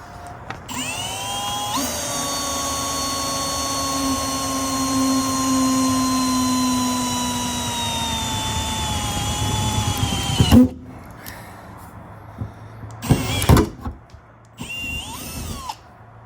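Power drill boring holes for BMW E30/E28 MTech 1 spoiler pins with an undersized bit: a steady, loud whine runs for about nine seconds, then cuts off, followed by a few short bursts.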